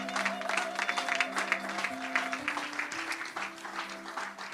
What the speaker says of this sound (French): Est-ce qu'on peut encore bien acclamer le Seigneur?